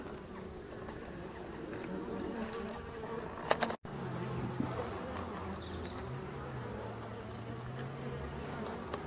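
Black honey bees buzz steadily at a garden hive entrance as foragers return carrying pollen, a close, continuous hum with one brief dropout and a fainter lower drone weaving underneath.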